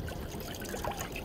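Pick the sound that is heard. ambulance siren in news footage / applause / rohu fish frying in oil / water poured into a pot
water poured into a pot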